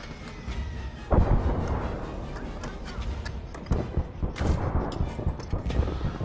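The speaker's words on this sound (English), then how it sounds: "Fire one more high explosive." A tank cannon firing high-explosive shells at a T-34 in the Gates of Hell: Ostfront battle game, with two heavy booming blasts about two and a half seconds apart over rumbling, crackling battlefield noise and scattered distant gunfire.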